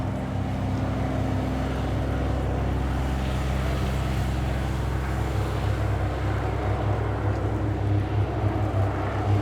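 Royal Norwegian Air Force Yellow Sparrows training aircraft flying a chevron formation display at RIAT 2024 give a continuous, steady propeller drone with strong low hum, loud and unbroken throughout.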